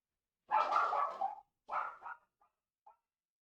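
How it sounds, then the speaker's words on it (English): A dog barks a few times nearby, two full barks followed by a couple of faint short yips, then quiet. "there's my dog barking."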